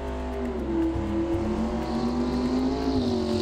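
A Pro Mod Plymouth Duster drag car on a qualifying run in British drag racing, its engine a loud, steady, continuous roar with rising and falling pitch, heard alone with no talk.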